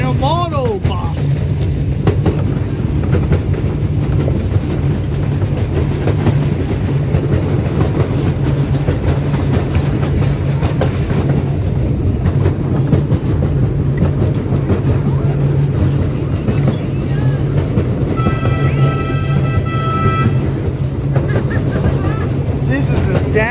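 A miniature park railroad train rolls past parked railcars, including boxcars. Steady wheel rumble and rhythmic clicking continue throughout, with occasional squeals.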